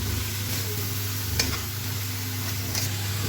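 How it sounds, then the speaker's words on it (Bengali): Chopped spinach frying in a pan with spices and tomato paste: an even, close sizzle with a few sharp stirring clicks scattered through it, and no voices. "এখন আমি কুচি করে রাখা পালং শাকটা দিয়ে দেবো।"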